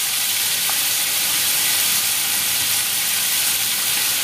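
Chicken pieces seasoned with salt and turmeric fry in a hot pan, a loud, steady, close sizzle and hiss that runs on unbroken with no talking.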